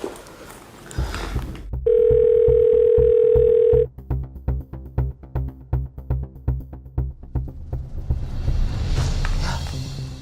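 A telephone call goes unanswered: a steady dial tone, then a run of regular ringback pulses that repeat evenly and stop, close and clear, with no voices.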